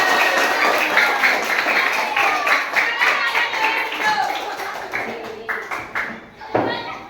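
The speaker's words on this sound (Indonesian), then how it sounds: "Ya, tepuk tangan semuanya" A classroom of students claps hands together in a dense, steady patter of many overlapping claps, fairly close, with children's voices mixed in and tapering off near the end.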